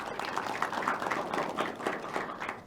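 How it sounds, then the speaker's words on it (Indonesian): Studio audience at a televised regional parliament dialogue forum clapping steadily, a dense, even wash of applause that holds at moderate loudness throughout with no voices on top. "Boleh tepuk tangan kembali?"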